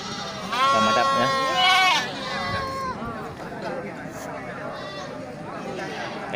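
Female breeding goats bleat loudly and close by at a livestock sale, with a few wavering calls in the first two seconds, then a busy murmur of people and animals continuing underneath.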